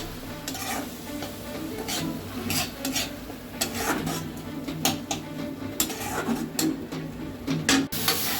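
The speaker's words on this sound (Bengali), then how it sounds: "দেখতেই পাচ্ছেন আমার মশলা কষানো চলছে" Spice paste of Kashmiri chilli, coriander and cumin powder for fish chop frying and being stirred in a pan, a busy sizzle with frequent metallic scrapes and clinks, no talking.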